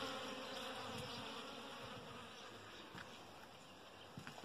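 A swarm of Italian honey bees (Apis) hums continuously around a water tank at a bee rescue, a dense, steady drone with occasional closer buzzes passing by.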